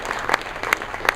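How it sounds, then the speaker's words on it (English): Office audience at a corporate talk gives a brief, moderate round of applause, a steady patter of many hands with a few sharper claps standing out. "Can we clap for that one?"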